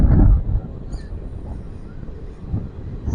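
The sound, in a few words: Ratnachal superfast express train running fast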